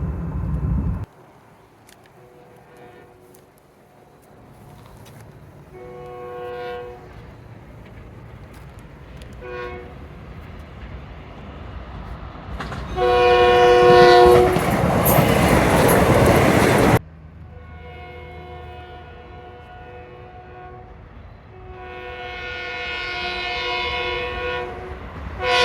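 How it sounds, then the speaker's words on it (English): A Kawasaki M9 train on the Long Island Rail Road sounds its Nathan AirChime K5LLA, a high-pitched multi-tone air horn. Several short toots lead into long loud chord blasts over rumbling rail noise as the train passes close by. "These use the Nathan AirChime K5LLA horn"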